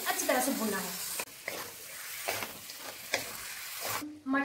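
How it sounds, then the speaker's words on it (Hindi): Mutton being fried with masala in a pan, with a sizzle and scraping stirs in irregular bursts, close and fairly quiet, with a voice over the opening moments. "अब मसाला और मटन अच्छी तरह से भूनना है।"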